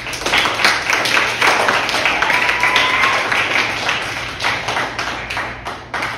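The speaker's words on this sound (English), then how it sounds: "You don't have to clap for that." An audience in a church setting claps steadily for several seconds, a dense crowd of hand claps that stays fairly loud before trailing off slightly at the end.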